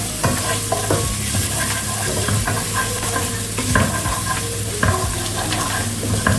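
Garlic sautéing in a pan for garlic rasam, a steady close sizzle with occasional stirring scrapes and clinks throughout.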